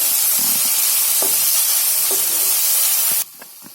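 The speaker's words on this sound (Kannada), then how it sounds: "ಹೆಚ್ಚಿಟ್ಟುಕೊಂಡ ಟೊಮೆಟೊವನ್ನು ಹಾಕೋಣ ಹಾಕಿ ಟೊಮೆಟೊ ಸಾಫ್ಟ್ ಆಗುವವರೆಗೂ ಫ್ರೈ ಮಾಡ್ಕೊಳ್ಳಿ" Chopped tomatoes fry in a pan of ginger for palak soup, giving a steady, close, loud sizzle and hiss with a few soft stirring taps, which cuts off abruptly near the end.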